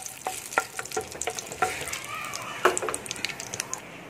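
Cumin seeds crackle and pop in hot oil while being stirred in a pan, busy irregular spatters and scraping clicks over a continuous sizzle, close and moderately loud.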